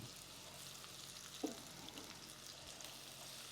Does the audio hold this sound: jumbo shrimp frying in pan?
yes